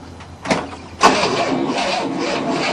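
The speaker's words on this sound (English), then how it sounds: "With the new starter motor, we don't even know if it works yet." A new starter motor cranks the engine of a 1967 Cadillac that has not run in 30 years, giving a brief click and then a loud, steady grinding churn close by that continues without catching.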